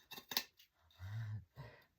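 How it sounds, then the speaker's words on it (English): Small scissors trim excess fabric around a plate, giving a few quick crisp snips followed by a soft low rustle, close and quiet with no talk. "I love these little scissors."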